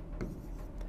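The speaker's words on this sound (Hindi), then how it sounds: "एक डेट आपके सामने लिख रहा हूँ" Marker or chalk writing a date on a classroom board, with soft scratchy strokes under low room noise, a brief firmer stroke near the start and another at the end.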